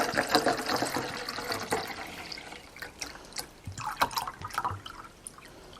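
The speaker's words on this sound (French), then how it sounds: "je commence par verser l'eau froide." Cold water is poured into a container, splashing and trickling at close range with irregular drips and gurgles that fade in and out, with no voices.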